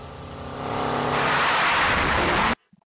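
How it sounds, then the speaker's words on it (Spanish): Motorcycle engine in an animated show, a riderless bike roaring up loudly and building to a harsh full-throttle howl before cutting off abruptly, followed by near silence. "Una moto lineal que se maneja sola."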